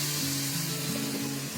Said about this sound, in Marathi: पुरी मोठे पुऱ्या असतील ना तर एक एकच तळायची